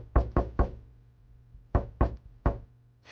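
Light knocks on wood in two groups of three, sharp and close with silent gaps between them, alone without any talk.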